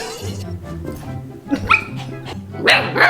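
A puppy barks and yips in short, sharp bursts close by, with whimpering between the barks. Other dog noises and some soft talk are in the background.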